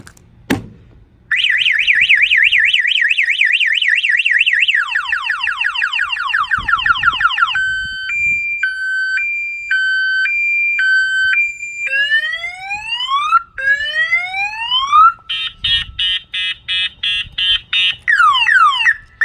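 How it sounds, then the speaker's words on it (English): A motorcycle alarm with GPS tracking cycles loudly through several siren patterns: warbling tones, rapid chirps, alternating beeps and rising whoops, continuous with no talking. "So basically, yeah, this is the alarm with the GPS."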